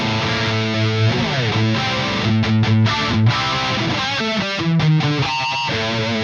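A distorted electric guitar through a Boss chorus pedal plays chords and short riffs, the tone thick and saturated with a shimmering chorus wobble, loud and continuous.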